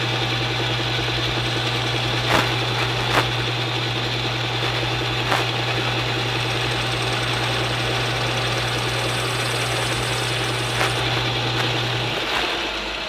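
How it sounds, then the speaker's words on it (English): A small metal lathe turns a model steam fire pumper wheel while a form tool cuts its radius. The motor hum stays steady and close, with a few faint clicks scattered through it. "And there I've cut the radius with my form tool."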